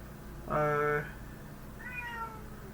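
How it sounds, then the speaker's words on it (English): A house cat gives two distinct meows, a loud clear one followed by a softer, rising one about a second later, over a low steady room hum. "but there's my cat"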